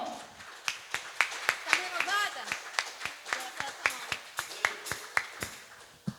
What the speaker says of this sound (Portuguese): Então aplauda o Senhor.